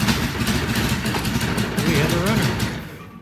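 A Norton motorcycle engine runs steadily at a fast idle right after a timing cover install, loud and close with a continuous chugging pulse that tapers off near the end; a voice talks briefly over it.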